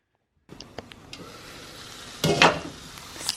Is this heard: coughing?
no